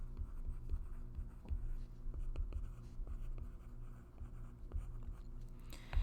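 Pen or pencil writing on paper while a math problem is worked out, a quiet, close run of scratchy strokes and small taps over a low steady hum, with no talking.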